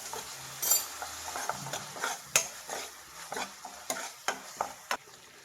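Pepper chicken with soy sauce and vinegar being stirred in a pan, with a utensil scraping and clinking against the metal in a steady rhythm of about a dozen strokes over a light sizzle.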